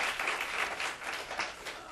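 An audience at a panel discussion on women's role in conflict resolution claps for a panelist, a continuous, moderately quiet round of applause that swells and dips slightly over two seconds.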